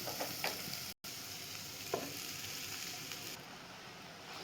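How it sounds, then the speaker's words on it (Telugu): Leftover rice frying with scrambled egg in a pan, a steady broadband sizzle with occasional scraping stir strokes, briefly cut out once, no talk. "ఇప్పుడు అన్నం వేసుకున్నాం కదా కొంచెం మంచిగా ఫ్రై కానిద్దాం"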